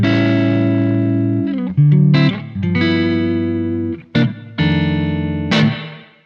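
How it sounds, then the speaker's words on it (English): A Gibson 335 electric guitar played on its neck pickup rings out in warm, sustained notes and chords, changing pitch several times with short pauses between phrases, heard alone and up close. "a neck pickup on a 335 is like one of my favorite tones ever"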